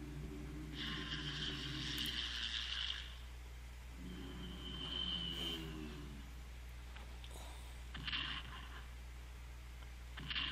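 Propeller bombers in the Strategic Command WWII: World at War strategy game drone in sustained bursts over a steady low hum, with several engine swells and fainter gaps between.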